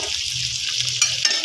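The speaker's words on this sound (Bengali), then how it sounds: "পেঁয়াজ কুচি, রসুন কুচিটা দিয়ে ভালো করে নেড়ে নিয়েছি।" Chopped onion and garlic fry steadily in a pan, a close, continuous sizzle with a soft stirring clatter near the end.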